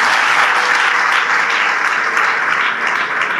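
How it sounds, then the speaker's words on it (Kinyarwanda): An audience at a school and university gift ceremony applauds loudly. A dense, continuous burst of many hands clapping fills the room at close range and holds steady throughout. "abantu n'ababyeyi mubongere amashyi"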